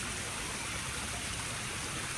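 Steady, full rush of a waterfall and flowing stream beside a garden gazebo at a cliffside resort in Varkala, a dense continuous water roar with no break.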